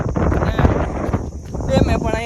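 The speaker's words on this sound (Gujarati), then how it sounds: "અહીંયા પવન બહુ છે" Strong outdoor wind on location at Dhoraji, buffeting the microphone with a constant loud rumble and roar throughout, with voices audible underneath.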